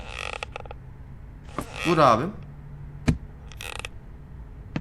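A door in the horror game Evil Nun The Broken Mask creaks open with a drawn-out wooden groan, joined by scattered clicks and knocks, while someone speaks briefly over it.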